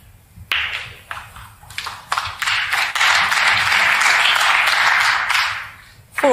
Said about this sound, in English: Good cheer from this Essex crowd